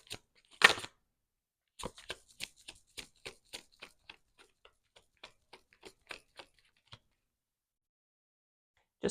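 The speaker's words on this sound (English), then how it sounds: "I had already shuffled, which is why I stopped, because I'm like, why am I reshuffling?" A deck of tarot cards is being reshuffled by hand close up: soft, irregular taps and slaps of cards in quick bursts with brief pauses, then a stretch of near silence.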